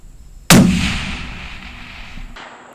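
A single sharp, loud crack from a Seekins rifle fitted with a muzzle brake, bursting suddenly and then trailing off into a long echoing decay outdoors.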